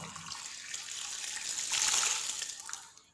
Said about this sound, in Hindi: पानी जो है वो आप लोगों ने एक जो जग है वो आप लोगों ने इसमें ऐड कर देना है